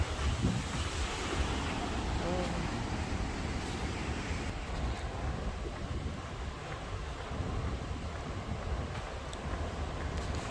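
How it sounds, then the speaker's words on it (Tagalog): Strong typhoon wind in Hong Kong roars steadily into the microphone, a constant blustery rush with a surf-like wash underneath, no voices. "Malakas din ang hangin."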